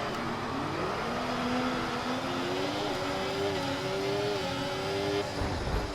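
In the F1 24 game at the Miami GP, race cars roar away from the start in a dense engine drone, with one whining note climbing through the gears as the pack accelerates.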